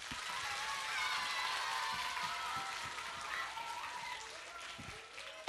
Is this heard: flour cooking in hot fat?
no